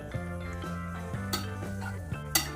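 Coriander powder roasts in ghee in a pan for Janmashtami panjiri, with a spoon scraping and stirring in light, irregular strokes and a soft sizzle, all faint beneath steady background music.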